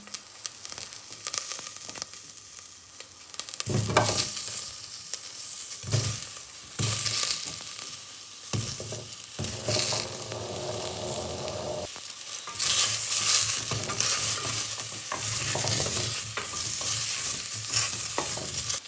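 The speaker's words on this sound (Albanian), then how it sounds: "Pas t'i dham një skuqje dhe perimeve" Vegetables sizzle and fry in a pot, with repeated scraping and stirring strokes over a steady crackle, close and fairly loud.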